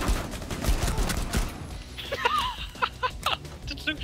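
Gunfire in the Rainbow Six Siege video game cracks out in rapid bursts early on, then fades as players talk over sparse shots.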